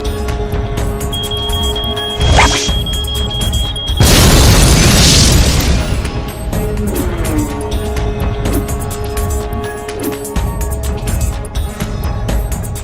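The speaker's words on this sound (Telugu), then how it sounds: "బాంబును తయారు చేసి టెస్ట్ చేశాం." A test bomb explodes in a film scene with a sudden loud booming burst whose roar fades over a few seconds, set within a steady music-and-effects bed with no speech.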